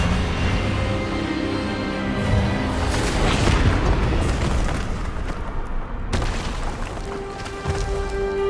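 Expelliarmus disarming spell cast during a wizard duel in Hogwarts Legacy on PS5, a loud booming magical blast with bursting crackles and a rumbling tail, a second sharp impact near the end.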